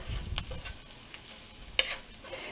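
Onions sizzling softly in a pan with salt and pepper, a low steady frying hiss broken by a few light scrapes and clicks of stirring, close and quiet.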